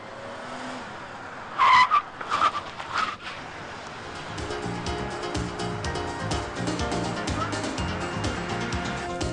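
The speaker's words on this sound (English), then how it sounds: "accelerate up to 35 or 40 and then hit the brakes hard" A car brakes hard from about 35 to 40 mph during a test drive, tires squealing in a few sharp bursts early on, followed by a softer rumbling engine and road noise.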